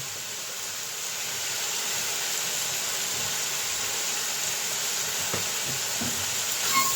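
Spiced sandwich filling with Kashmiri chili powder and black pepper stirred in a pan, a steady close sizzle and hiss running throughout with faint spoon scrapes near the end.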